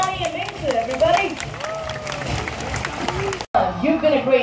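Audience applause at a night zoo animal show in Singapore, a broad steady clatter of clapping from a crowd with scattered voices and cheers mixed in, briefly cutting out near the end before resuming.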